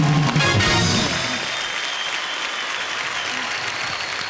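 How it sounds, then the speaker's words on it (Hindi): A studio audience on The Kapil Sharma Show bursts into applause, loud at the start with a hint of music or cheering, then settling into a steady, sustained wash of clapping. "एक बार तालियां बजती रहें।"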